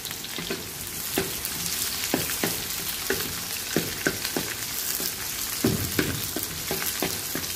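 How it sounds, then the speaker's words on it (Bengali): Garlic, dry red chillies and a little onion frying in hot oil as a tempering for greens, a bright continuous sizzle with frequent scraping stirs of a spoon against the pan, close and loud. "এখানে রসুন আর শুকনো মরিচ আর একটু পেঁয়াজ দিয়ে দিব।"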